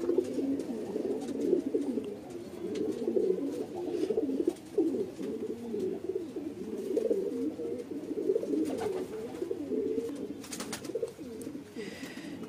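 A tara highflyer pigeon coos close by in soft, repeated, low throaty rolls that continue throughout, with small rustles and a faint tick here and there.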